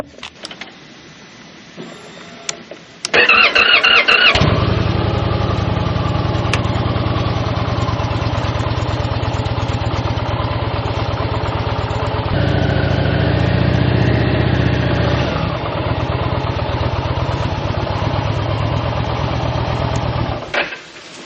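An Indian motorcycle on a long road trip starts with a sharp crank and settles into a loud, steady idle. A deep, even throb runs for about sixteen seconds, briefly rising in pitch midway, then cuts off, with no talking.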